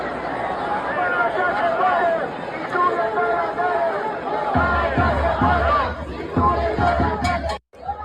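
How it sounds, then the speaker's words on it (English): A large crowd of people chatters and calls out in a dense, steady babble that stays loud throughout, with a sudden brief dropout near the end. "That right there, that's what you call a crowd."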